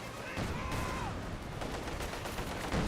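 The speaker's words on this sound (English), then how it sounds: "MG42 firing away" An MG42 machine gun firing in the video game Company of Heroes 2, a continuous rattling volley of rapid shots under a dense battlefield din, with a commentator's voice faintly over it.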